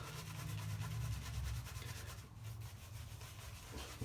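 A Muhle R41 safety razor scrapes over a head of long hair thinly coated with leftover Omega shaving cream, giving a steady, close, continuous rasping drag with no talk.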